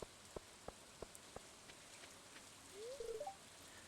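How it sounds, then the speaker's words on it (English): Rain falls in the farming game Stardew Valley, a soft, quiet, even patter with a few separate droplet plinks early on and a brief higher chirp toward the end. "The valley looks more interesting in the rain, don't you think?"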